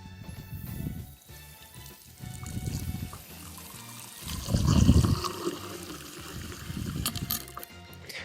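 Filtered water runs from a hose into cups in an RV setup, a continuous trickling pour that swells louder midway, with faint background rumble throughout.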